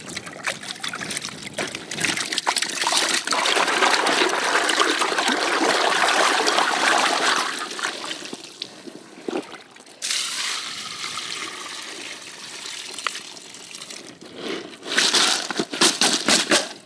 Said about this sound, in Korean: 저쪽에 물로 씻는 데가 있더라고요. 거기 가서 한번 세척 좀 하려고요.